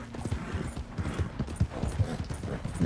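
Horse hooves clip-clop in Red Dead Redemption 2, a steady, rhythmic trot of clear, close hoofbeats that carries on throughout.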